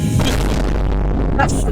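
Tank cannon fire in Cursed Tank Simulator, a loud booming roar with heavy low rumble that fills the whole short moment, a second crack near the end, and a voice partly underneath.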